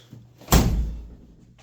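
One solid close thunk as a Volkswagen Corrado door with a misadjusted striker is pushed shut, the impact ringing briefly before fading into quiet.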